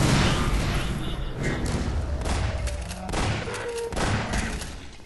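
Gunfire in the video game Half-Life 2 Episode 1: loud, rapid bursts of overlapping shots and booms crowd the whole stretch, with brief dips between volleys.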